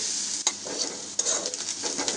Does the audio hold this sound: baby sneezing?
no